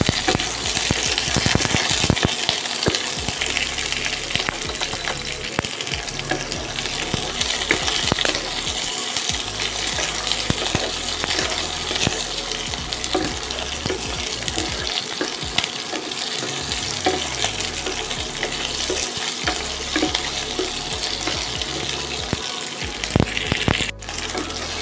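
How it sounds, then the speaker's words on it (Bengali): About five green chillies and a whole tomato shallow frying in a pan, giving a steady loud sizzle with crackling pops and occasional scraping stirs throughout, no voices. "এটা পুরোটাকে একটু হালকা শ্যালো ফ্রাই করে নেবো প্রথমে।"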